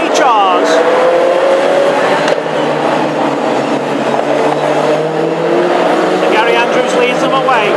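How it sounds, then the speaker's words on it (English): Classic hot rod race cars roar off as the green flag drops at Hednesford, a loud, dense blend of engines with rising pitches sweeping past, under continuous race commentary. "There's the green, and we go racing for the first time this afternoon"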